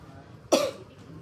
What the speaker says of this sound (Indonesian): tutup mulutnya, batuk.